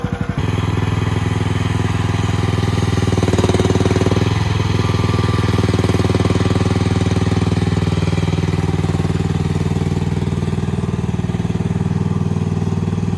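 A China Dingo FT323W mini skid steer loader running nearby, a loud steady throbbing engine with a rough pulsing idle and no pauses for the whole stretch, no talking.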